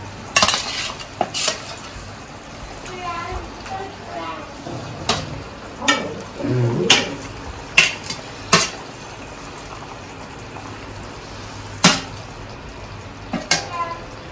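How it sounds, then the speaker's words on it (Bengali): Boal fish is tipped into a pan of spiced mustard oil and stirred, with scattered utensil clinks and scrapes over a low, soft sizzle. A voice speaks briefly in between. "এখন এই মাছ কটা ঢেলে দিই।"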